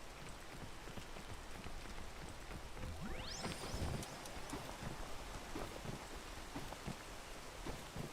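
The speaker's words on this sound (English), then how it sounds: "I probably could have waited until the rain stopped." Rain in the video game Peak, a steady patter with a soft hiss throughout, and a brief rising whine passing midway.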